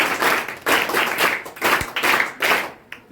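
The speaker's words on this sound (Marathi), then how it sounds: "शाळेच्या वतीने टाळ्या वाजवून स्वागत करूया।" A school audience claps in welcome for visiting Agri festival team members, giving several loud bursts of applause in quick succession with short gaps between them.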